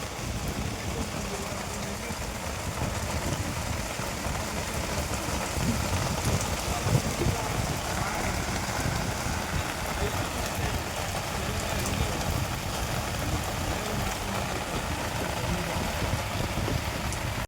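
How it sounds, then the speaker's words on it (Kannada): Heavy rain pouring steadily, a dense continuous hiss of drops drumming on surfaces, unbroken and fairly loud for the whole stretch. "ನೋಡಿ ಜೋರಾಗಿ ಮಳೆ ಬೀಳ್ತಾ ಇದೆ ಇವತ್ತು"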